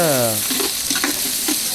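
Chicken frying in a large pot in a village kitchen, a steady loud sizzle with stirring scrapes throughout, and a brief tonal hum at the start.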